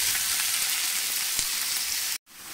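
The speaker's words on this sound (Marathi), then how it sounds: "आता आपण याच्यामध्ये कांदा टाकून घ्यायचाय." Onion sizzling steadily in hot oil with whole black pepper, cloves, cinnamon and cardamom in a pan, a continuous close crackle that breaks off briefly near the end.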